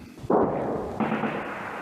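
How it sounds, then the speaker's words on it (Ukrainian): Artillery shells and rockets exploding in combat near Toretsk: two loud, heavy blasts about a second apart, each followed by a sustained rumbling roar, with no voices. "Російські реактивні ракети, танкові артилерійські снаряди та міни тут вибухають майже без зупину"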